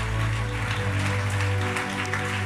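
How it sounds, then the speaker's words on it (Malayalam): A church congregation clapping their hands in thanks during a Malayalam Christian sermon, a dense, steady round of applause that fills the room. "കൈയടിച്ച് കർത്താവിന് നന്ദി പറഞ്ഞു"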